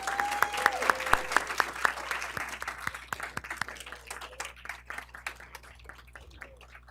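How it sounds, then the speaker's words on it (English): An audience at a school board meeting applauds at a steady level that slowly tapers off, with a few brief tones early on and faint murmurs underneath. "Let's give them one more round of applause."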